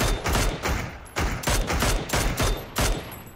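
Loud, close bursts of automatic gunfire from a PUBG squad match, several rapid volleys separated by brief pauses with no talking over them.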